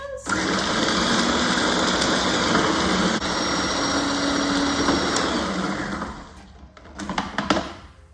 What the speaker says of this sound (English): So we'll just whisk that up again for a few more seconds.